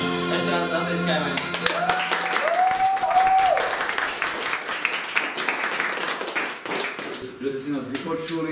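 Concert audience applauding steadily for several seconds after a performance, a broad wash of clapping with a brief sung or held tone near the start and voices mixed underneath.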